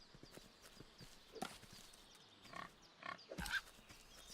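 A pig in the video game Force of Nature, heard as faint, scattered snorts and grunts over a low ambient game backdrop, with a few louder bursts near the middle and end.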